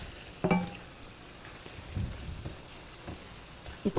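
A spoon stirs crushed red pepper through a sizzling pan of mushrooms, arugula, tomatoes and brie for orecchiette, with soft scrapes and a few louder knocks against the pan over a steady low fry.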